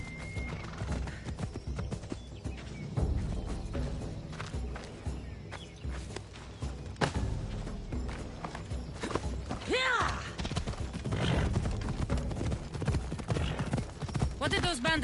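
Horse hooves clip-clopping at a steady walk with occasional neighs in Assassin's Creed Odyssey, a continuous moderate rhythm under game music and ambience, with talk heard alongside.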